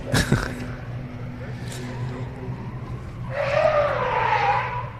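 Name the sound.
drift car skidding through a handbrake turn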